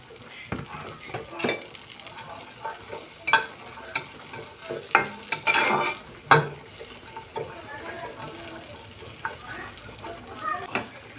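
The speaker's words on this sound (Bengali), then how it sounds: "এখন এখানে তেল ছাড়া গরম কড়াইয়ে জিনিসগুলো ভালো করে ভেজে নেব।" Onion, green chillies and garlic dry-fry without oil in a hot kadai, with scattered sizzling and the stirring and scraping of a utensil against the pan in irregular bursts, close by.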